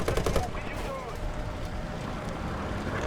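Machine gun fire from the loader's 7.7 mm gun on an M1A1 AIM Abrams tank in a video game, a quick burst of rattling shots at the start that fades into a steady engine and wind rumble.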